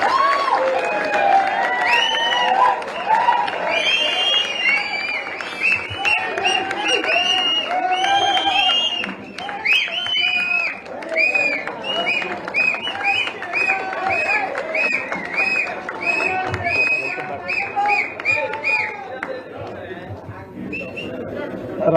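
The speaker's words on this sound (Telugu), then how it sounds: "అందరు కూడా చప్పట్లతో ఆహ్వానించవలసిందిగా మనం చేస్తాం" Audience applause at a party joining event in Erravalli, Gajwel, where members from Pinapaka constituency join the BRS party: sustained, dense clapping with cheers and whistles over a crowd that lasts about twenty seconds.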